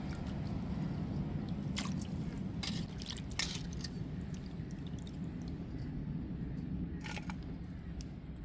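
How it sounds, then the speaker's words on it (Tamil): Dried salted fish being rinsed by hand in fresh water, with steady sloshing and splashing throughout and a few sharper drips and clinks of the fish against the vessel. "நல்லா நம்ம பச்சை தண்ணியை ஊற்றி 2-3 தண்ணி வச்சு நல்லா அலசிக்கிடுவோங்க"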